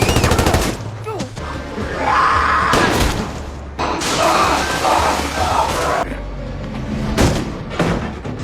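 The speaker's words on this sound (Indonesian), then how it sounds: "si tentara pun menembak Joel serta Sarah" Bursts of gunfire crackle through a dramatic TV series scene with soldiers shooting, loud booming shots and thuds breaking up stretches of tense background sound and brief voices.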